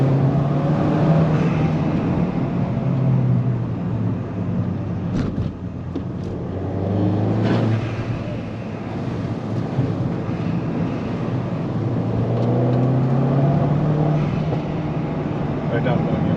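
A modified MG6 car drives with a steady low engine and road rumble and wind noise, a few short knocks partway through, while someone talks over it.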